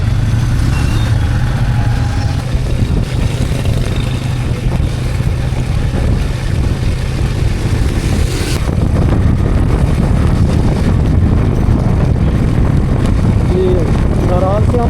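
Heavy wind buffets the microphone over a steady engine drone while riding a motorbike in rain through extreme weather, loud and continuous throughout, with the rush briefly changing character midway.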